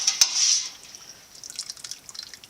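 Turkey broth poured from a small steel stock pot into a large bowl: a bright splash and trickle up close at the start, fading into scattered drips and small liquid patters.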